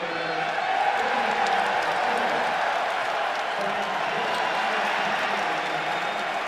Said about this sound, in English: Crowd cheering everything that he does.